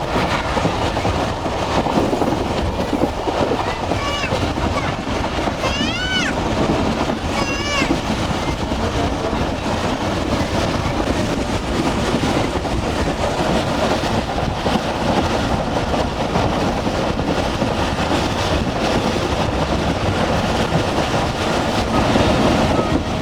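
The Musa Pak Express railcar runs on rails approaching Okara railway station in Punjab, with a steady, loud rumble of wheels and carriage noise throughout and a brief high squeal partway through, while a voice talks over it.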